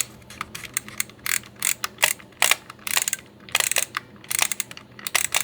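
Quick ratcheting clicks and small mechanical ticks as the film-advance gears of a toy-grade three-lens plastic Robot 3 camera engage, close and fairly crisp, in irregular bursts with no talking.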